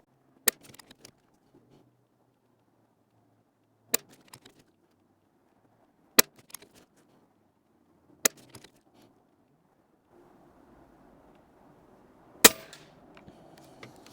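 Sharp shots from a PCP .22 air rifle firing pellets, six crisp reports spaced a few seconds apart, each with a short mechanical rattle, against a quiet background with no talking.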